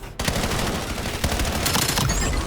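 Rapid automatic gunfire plays out in a Call of Duty Black Ops 7 multiplayer beta match as enemies are shot down, a dense, continuous loud burst of shots lasting the whole stretch.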